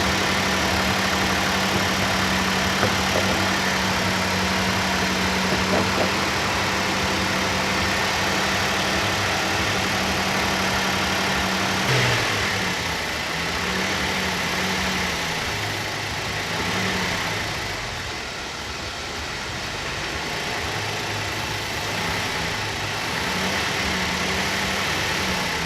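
A car engine idles steadily at 2,000 RPM at operating temperature, a constant low hum with a faint rough edge and no voices, during direct injection cleaning.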